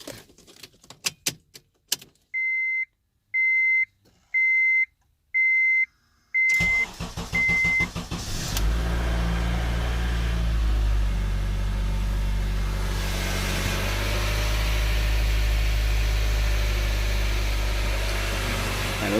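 A Honda CR-V's engine starts after its battery is reconnected: clicks and a series of electronic chime beeps, then the engine cranks, catches and settles into a steady, quiet idle without tapping, nearby.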